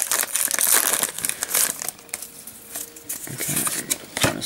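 Crinkly foil wrapper of a Pokemon trading card booster pack being torn open, a run of close, sharp crumpling and ripping bursts with brief pauses between them.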